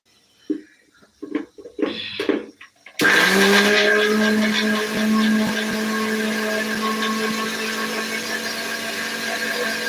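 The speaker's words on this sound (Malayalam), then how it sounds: "എന്നിട്ട് നമുക്ക് അത് മിക്സിയിലേക്ക് വെച്ചുകൊടുക്കാം" A mixer grinder whirs loudly into action on a curry spice paste for fish curry, steady high-pitched motor whine running several seconds after a brief stretch of clattering and handling noises.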